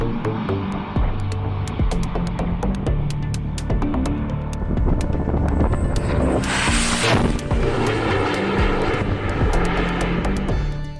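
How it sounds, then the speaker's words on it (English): A low-altitude rocket launched from the Shetland Islands gives a continuous loud roaring rumble with throbbing low end, steady throughout, swelling into a brighter hissing blast midway before settling back. "Scottish Launch Company has successfully launched a low-altitude rocket from the Shetland Islands for the first time"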